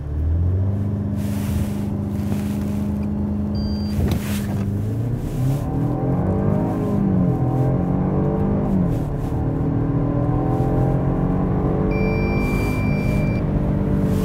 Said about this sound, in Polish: teraz spróbuję zrobić jedną rzecz, mianowicie zmieniać przełożenia